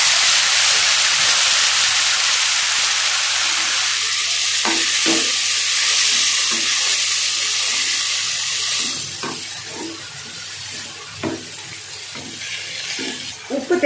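Chopped tomatoes with onions and curry leaves sautéing and being stirred in a pan for an egg dish, a steady bright sizzle that thins out midway, with scraping stir strokes and light clinks near the end.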